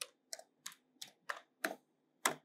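Keys clacking as someone types on a keyboard, seven separate crisp taps at an uneven, unhurried pace, close and isolated.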